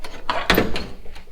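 A car's half door handle is pulled and the door latch works, giving a few short mechanical clicks and a solid thunk close by, with no talk over it.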